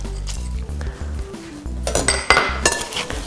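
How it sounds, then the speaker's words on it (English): A utensil stirs apple cranberry crisp filling with walnuts and lemon juice in a baking dish, clinking and scraping against the dish in an uneven run of close knocks and rattles, louder toward the end, with no talking. "So we'll just stir this to combine, and we just want to make sure that everything is coated evenly."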